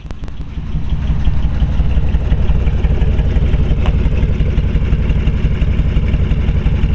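A 1940 Ford Deluxe Business Coupe's '53 Mercury V8 idles with a deep, steady burble through loud glass pack exhaust with 2.5-inch tailpipes, its lumpy rhythmic pulsing close and continuous.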